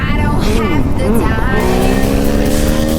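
A motorcycle engine revs hard during power wheelies on a gravel road, a loud, close roar that climbs and shifts pitch through the gears, with someone shouting excitedly over it.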